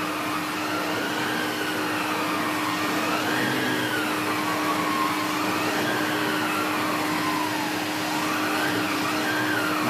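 A Numatic Henry HVR200A vacuum cleaner runs on its low setting, giving a steady, continuous motor drone and airflow hiss with a faint wavering whine, close and even throughout with no talk.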